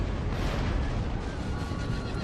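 Horses whinny amid a dense, loud battlefield din in the video game Empire: Total War, the cries blending into constant roaring noise throughout.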